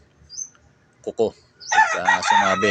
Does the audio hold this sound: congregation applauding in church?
no